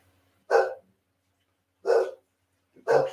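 A dog barks three times, close and loud, with single sharp barks spaced a second or more apart and silence between them.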